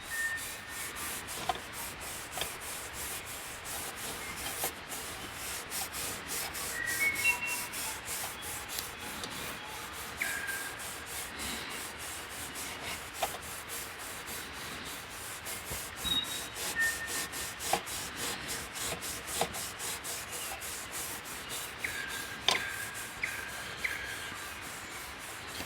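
Hand polishing of the corroded nickel finish on an Eveready lantern, a faint, steady rubbing and scrubbing with soft repeated strokes and occasional light taps, close by and without talk.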